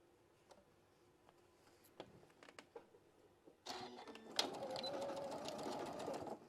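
A sewing machine stitches a quarter-inch seam around a fabric Easter egg, starting with a few faint clicks and handling taps, then running in a steady, close mechanical whir for the last few seconds.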